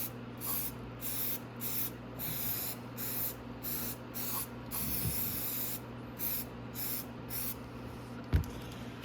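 An aerosol can of non-chlorinated brake cleaner sprays in a steady series of short hissing bursts with brief pauses between them, close to the microphone, cleaning a 250cc engine top end.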